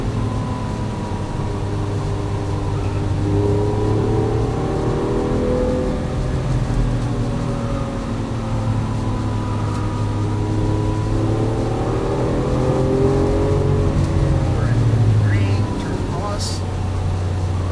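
A Lamborghini Aventador LP700-4 accelerates out of a turn with a steady, loud engine note that rises in pitch, and a voice speaks over it.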